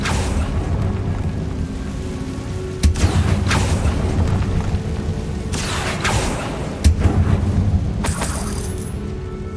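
Confringo blasting spell in Hogwarts Legacy, with several booming explosions and shattering debris over a constant rumbling game background, loud and close, no speech.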